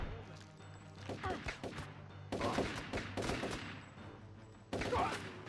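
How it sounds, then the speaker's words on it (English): Gunfire in Turok 3: Shadow of Oblivion, with bursts of rapid, sharp, close shots in uneven clusters and loud cracks near the end, while a voice talks softly in between. "Just stand there while I shoot you"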